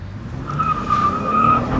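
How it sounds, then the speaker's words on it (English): An all-wheel-drive 2018 Cadillac XT5 spins its tires, a sustained high-pitched squeal rising over the loud engine roar, close and continuous, with no talking. "It's a hell of a lot of wheel spin for a freaking all-wheel drive."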